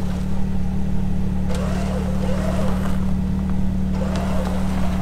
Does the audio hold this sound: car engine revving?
yes